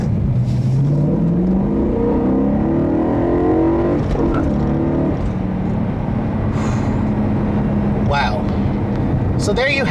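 A 2011 BMW M3 with a six-speed manual climbs hard toward its 8,400 RPM redline, the loud engine note rising steadily in pitch, then dropping back and holding a lower drone while a person talks over it.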